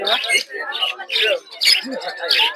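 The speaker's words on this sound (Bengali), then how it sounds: "এই যে লাভবার দেখতে পাচ্ছেন" Lovebirds at an outdoor bird market give close, rapid bursts of harsh chattering squawks, one flurry after another with short pauses between.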